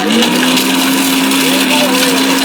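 Blender motor running steadily, a loud, continuous whir with a sustained tone, while a person talks over it.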